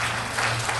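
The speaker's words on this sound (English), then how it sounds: "I'd like to ask you to hold your applause because you're stealing someone's time" Audience applause at a public meeting on a regional planning proposal, a brief, steady wash of clapping at even loudness with no voices standing out.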